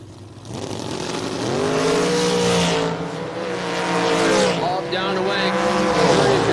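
A drag strip's dragster and a 1963 Corvette launch side by side, a loud, close roar of rising engine revs with swooping pitch and tire noise, an announcer talking over the din.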